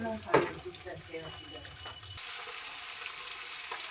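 Jaggery melting in a pan while making amla candy, a faint sizzle that swells into a steady hiss after a few soft clinks and scrapes of stirring, with quiet talk early on.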